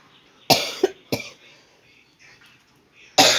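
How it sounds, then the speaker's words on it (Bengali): One person coughs in a few sharp, close bursts, a double cough followed by a single, then another after a pause, with faint murmuring between. "কাশি হয়ে গেছে একটু।"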